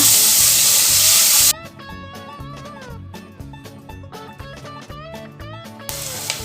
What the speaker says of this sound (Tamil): இப்போ நான் கட் பண்ணி வச்சுருக்கிற ஆனியனை இது நல்லா வதக்கிக்கோங்க